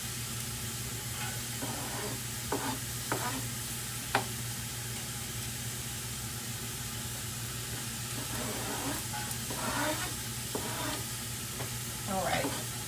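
Chopped onion sautéing in extra virgin olive oil for tomato orzo soup, a steady soft sizzle under a constant hum, with intermittent stirring scrapes and crackles, fairly quiet and close, and a voice briefly heard.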